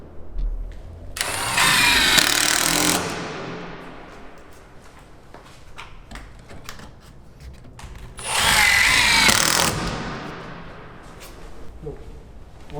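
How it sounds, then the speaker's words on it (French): Power drill driving screws through a wooden trim board into the door frame of a garden shed, two loud sustained bursts of whirring at the start and near the end with quiet pauses between. "je viens visser cette planche sur le cadre et non pas sur le mur"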